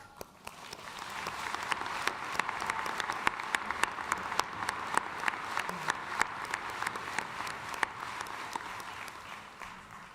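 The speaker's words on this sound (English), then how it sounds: "Let's have a round of applause for each other." A large commencement crowd in Gentile Arena applauds one another, sustained clapping with sharp individual claps standing out over the roar of the hall.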